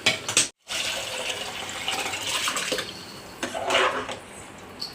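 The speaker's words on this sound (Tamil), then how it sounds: "அது கொஞ்சம் அப்படியே தண்ணி ஊற்றி அலசி ஊற்றிக்கலாம்." Water pours into a grinder jar to rinse it out, a steady close splashing and trickling that runs for several seconds after a brief gap, with no talking.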